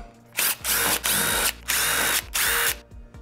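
A power drill removes screws beneath the bumper of a 2018-2023 Ford Mustang. It whirs in four loud bursts with short pauses between them, and no voices are heard.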